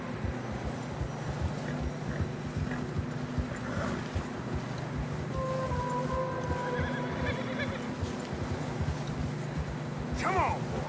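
Horses whinny and snort over the steady clip-clop of hooves on snowy ground in Red Dead Redemption 2, with a continuous low rumble underneath and a sharper neigh rising near the end.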